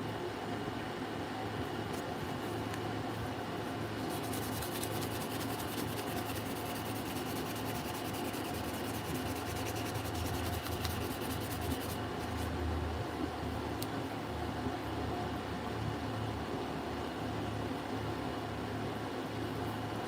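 Continuous light scratching of 800-grit sandpaper taking a stained top coat off, an even hiss that runs without a break under a steady hum of background noise.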